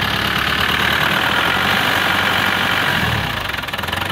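A 1993 Land Rover Defender with the 200 TDI diesel engine idling, a steady loud clattering rumble heard up close, dipping slightly near the end.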